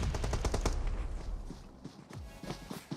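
Gunfire in an online shooter video game: rapid bursts of shots crowd the first second, then sparser scattered shots follow, fairly close and moderately loud.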